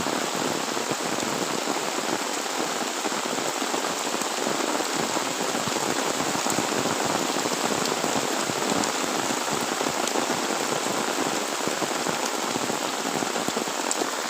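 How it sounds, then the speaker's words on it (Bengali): Heavy morning rain in a village pours down in a dense, unbroken hiss and patter, loud and steady throughout, with no voices. "দেখো এখানে প্রচুর বৃষ্টি পড়ছে"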